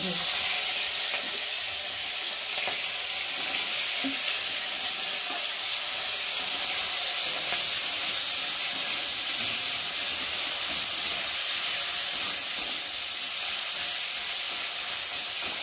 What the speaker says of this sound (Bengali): নুন হলুদ মেখে রাখা কাঁকড়াগুলোকে এখন ভেজে নেব